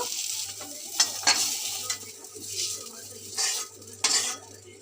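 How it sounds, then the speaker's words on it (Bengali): Potatoes fry in a pan for a homemade Bengali fish curry with a soft, continuous sizzle, while a spatula scrapes and clinks against the metal at intervals. "আলুগুলো ভাজা হচ্ছে"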